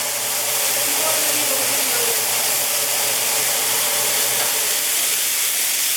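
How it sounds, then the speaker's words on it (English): Deer steaks searing in a pan with butter swirled in, giving a steady, loud, broad sizzling hiss with no pauses. "When you throw some butter in it and swirl them around, it's going to pick up all that extra seasoning and burnt stuff"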